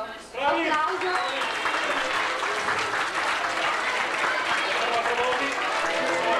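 A crowd at a school festival prize-giving bursts into dense, sustained applause that holds at full strength throughout, with voices calling out across the clapping.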